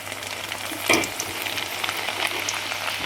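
Gram flour batter dribbled in small amounts into hot oil for nei kadalai fries with a continuous bubbling sizzle, a short scrape or clink near the first second.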